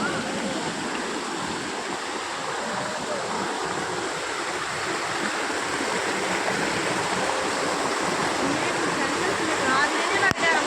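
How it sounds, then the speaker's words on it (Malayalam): A steady, broadband rush of falling water fills the scene from start to finish, loud and constant with no breaks. "ഒരു വെള്ളച്ചാട്ടത്തിന് ശബ്ദമൊക്കെ കേൾക്കുന്നുണ്ട് കേട്ടോ"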